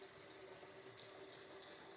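Hot tap water running steadily over a GE microwave exhaust grease filter in a sink, a constant close hiss and splash without pauses or talk.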